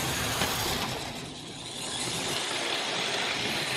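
An HO scale model train engine runs along its track on a rainy day, giving a steady, dense mechanical whir and rattle of small wheels and motor that dips slightly midway and then picks up again, with no talking.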